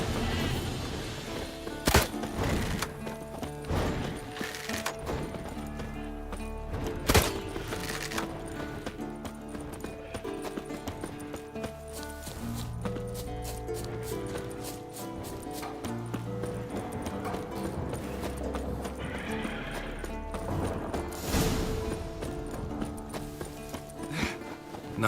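Hooves of Scorpion, a purebred warhorse, clip-clop in The Witcher 3: Wild Hunt, a steady rhythm of hoof strikes set against game music and ambience, with a neigh-like cry and occasional loud impacts.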